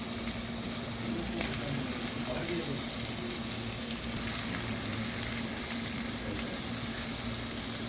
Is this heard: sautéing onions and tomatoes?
yes